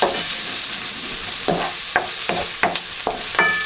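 Onions frying in a pan for beef chili, sizzling steadily while a utensil stirs them in a run of sharp scraping strokes about every half second, close and loud, no talking.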